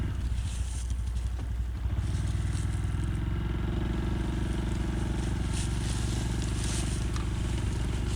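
Brush Cub vehicle put in gear and driving, with a loud, steady engine drone and rhythmic mechanical rumble that holds up close throughout, a rougher idle giving way to continuous running.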